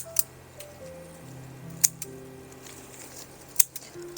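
Rose branches being cut with garden shears in early autumn pruning: three sharp, isolated snips spaced about two seconds apart, close and crisp over a faint steady background, with no talking.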